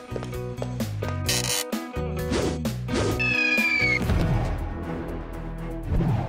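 A kitten in a pet toy shop meows once or twice among busy tonal music and clicking, ratchet-like mechanical effects, with a brief high whistling tone partway through.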